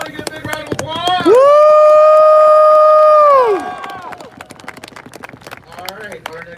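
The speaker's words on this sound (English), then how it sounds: "Give a big round of applause." Crowd at an outdoor rally in Washington, DC, clapping and cheering for a speaker, with a loud sustained whistle or vocal whoop over the top partway through, then continuing scattered claps and crowd noise.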